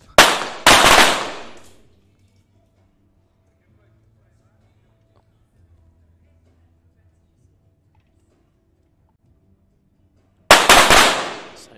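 Pistol shots at a mixed 25m SH1 para pistol shoot-off, a couple of sharp loud cracks close together at the start, a long quiet stretch of faint room noise, then another loud report at the end.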